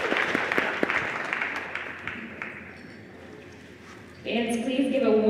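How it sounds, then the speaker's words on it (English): A gym crowd at a girls' varsity high school basketball game applauds the 2020 seniors and their families under a public-address announcer's voice, and bright music then starts up loudly near the end. "Fans, please give a Warren Harding greater round of applause for our 2020 Warren Harding Girls Basketball Seniors"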